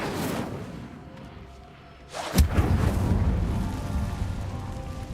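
Incendio fire spell being cast in the Hogwarts Legacy video game: a quiet stretch, then a sudden whooshing burst with a sharp peak that settles into a loud, roaring fiery rumble sustained to the end.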